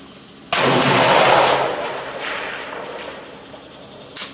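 A single sharp AK-12 rifle shot cracks loudly and is followed by a long decaying echo across an outdoor range at 400 meters, with a faint distant thump about four seconds later.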